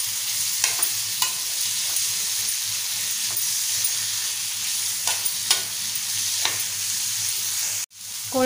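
Cleaned prawns are tossed in hot oil in a frying pan for a tava fry. A continuous hiss of frying runs throughout, with a few sharp scrapes and taps of the spoon and a brief loud clatter near the end.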